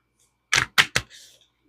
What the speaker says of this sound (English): Maybe one more shuffle.